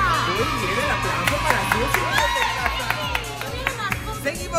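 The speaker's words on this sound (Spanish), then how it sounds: "Muy bien, el aplauso." Studio audience at a televised water-balloon tournament game show claps and cheers in a busy burst, with crowd noise and whoops over a steady low hum.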